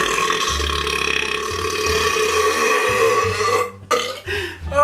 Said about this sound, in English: the burps are rocking my body